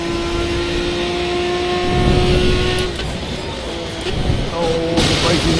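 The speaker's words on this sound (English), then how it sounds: "Drifting the LMP1. Not really what it's designed for." An LMP1 prototype race car in a racing game drifts with a sustained engine drone and tyre noise that rises and falls as the car slides, with a shift in tone near the end.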